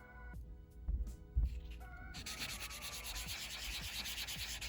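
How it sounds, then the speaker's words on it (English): Fingernails being lightly buffed with a soft brush buffer block, giving a soft rubbing, sanding texture that shifts into steady, continuous scrubbing partway through, close and fairly quiet with no talking. "I'm just gonna go ahead and just buff the rest of my nails very lightly"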